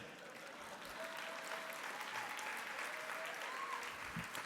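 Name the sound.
audience clapping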